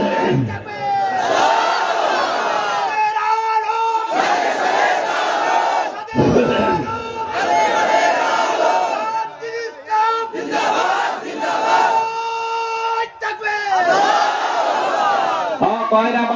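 Large crowd at an outdoor Bengali Islamic sermon gathering shouting takbir in loud, repeated unison bursts, several waves of massed voices rising and falling over about sixteen seconds.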